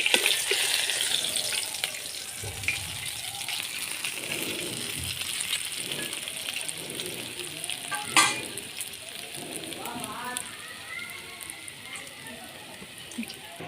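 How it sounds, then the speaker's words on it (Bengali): Rohu fish frying in hot oil gives a steady close sizzle, with a sharp metallic clink partway through, while a person talks over the cooking. "মাছ ভাজা হয়ে গেছে, নামিয়ে নেব।"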